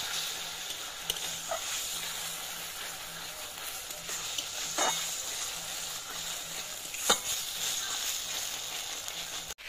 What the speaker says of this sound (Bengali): আতপ চালটা আমি আজ ভিজাইনি, শুকনোই ওর সঙ্গে ভেজে নেব।